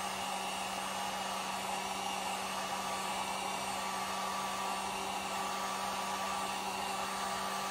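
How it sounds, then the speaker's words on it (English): A heat gun blows in one constant, loud, unbroken whoosh with a steady hum as it heats the plastic glue of a car lens. "You want to make sure you keep the heat gun moving"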